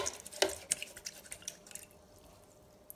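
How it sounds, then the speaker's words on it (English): An acrylic paintbrush swished and rinsed in a water cup, giving a short burst of close, soft drips and splashes that fade into quiet. "I'm going to rinse my brush."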